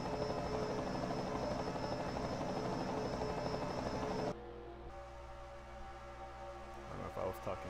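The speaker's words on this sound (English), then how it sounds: "I've had an earful of helicopter" A helicopter flies over a Daytona 500 race, its steady loud rotor drone filling the first half before dropping away to a quieter background with faint voices.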